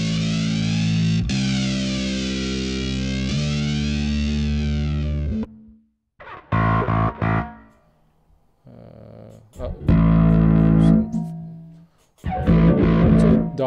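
A bass guitar played through a synth-like effects preset on Axiom gives sustained, buzzy tones with rich overtones, first a long held note and then a run of shorter plucked phrases separated by gaps.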